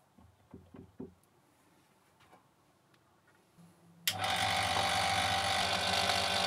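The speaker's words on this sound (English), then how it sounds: "The motor drives the lathe with this sewing machine belt" An electric motor spins up an Emco Unimat SL lathe through a sewing-machine belt, starting abruptly after a few light knocks and then running loud and steady with a whirring hum.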